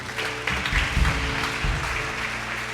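Church congregation applauding during a worship service, a broad steady wash of clapping that holds at an even level for a few seconds, with low rumbles beneath it.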